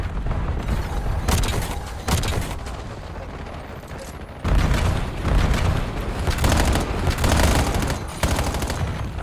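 A frag grenade thrown in a video game goes off among a firefight, with a sudden loud booming burst partway through amid repeated gunfire cracks and rattling shots, dense and continuous throughout.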